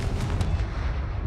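Hogwarts Legacy video game: a Confringo explosive spell going off as a deep, rumbling blast that rolls on for about a second, fairly loud with no voice over it.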